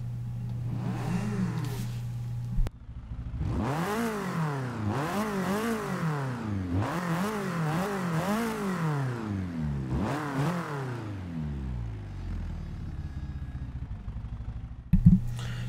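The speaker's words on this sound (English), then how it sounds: "let's hear how this little Opel sounds" Simulated 1979 Opel Kadett engine in the Forza 6 racing game, revving up repeatedly in several rising sweeps with gear-like steps, then settling to a lower drone before a brief burst at the end; no voices.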